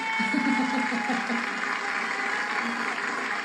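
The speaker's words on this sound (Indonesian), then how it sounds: "Tepuk tangan kali" Steady applause from a studio audience at an Indonesian religious singing competition, a dense even wash of clapping that holds for a few seconds with voices mixed faintly underneath.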